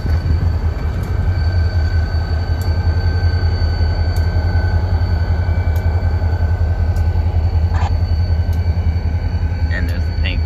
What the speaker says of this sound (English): Lovely locomotive.